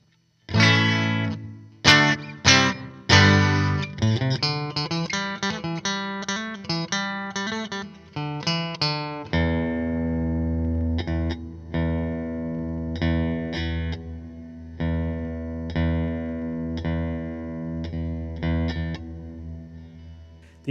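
Electric guitar through a reverb pedal on its room setting, strummed chords and picked notes ringing out with a spacious, lingering tail, played alone with brief pauses between phrases.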